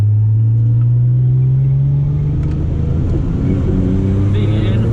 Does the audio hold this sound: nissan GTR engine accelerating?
yes